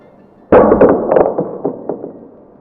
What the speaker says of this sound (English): So I need to cut this wire.